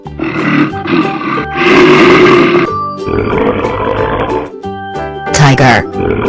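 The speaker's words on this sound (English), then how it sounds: "Gorilla." A gorilla grunts and roars in loud, rough bursts, several heavy calls close together over background music.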